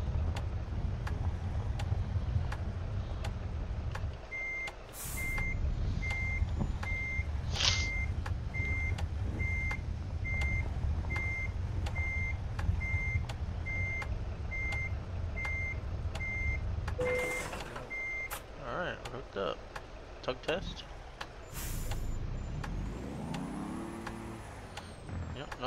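An American Truck Simulator rig backs up to hook a trailer, its diesel idling low under a long run of steady reversing beeps, then a sharp air-brake hiss and clunks of the coupling, with speech heard at points.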